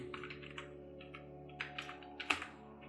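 Quiet typing on a computer keyboard while writing simple HTML anchor tag code, a rapid irregular run of soft key clicks over a faint steady hum.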